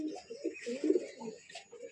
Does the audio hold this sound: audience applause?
no